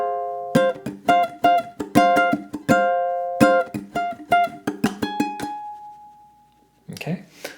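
Funk strum pattern on ukulele, crisp percussive chord strums with muted slap accents in a steady syncopated rhythm, played close and loud, ending on a ringing held note before a brief scrape.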